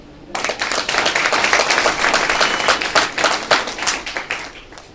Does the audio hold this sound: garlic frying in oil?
no